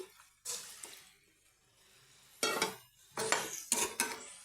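Water that rinsed the oily cauliflower frying pan is poured into a cooking pan of spices: a few metal clanks, then splashing bursts and a brief sizzle, close and fairly quiet, with pauses between.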